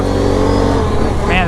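A Polaris ATV engine runs hard on a dusty Arizona mountain trail, with a loud, close, continuous engine drone. A voice is heard over it.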